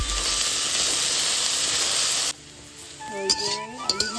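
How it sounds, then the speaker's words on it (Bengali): Potatoes fry in a home kitchen pan with a loud, steady sizzle for about two seconds, then it drops away to a quieter hiss broken by a few short clinks and scrapes. "আর এখন আবার আলু ভাজা হচ্ছে"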